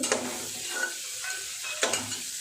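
Chopped garlic and ginger fry with onion in a pan for chicken stew, a steady close sizzle with two distinct scraping stirs, one at the start and one near the end.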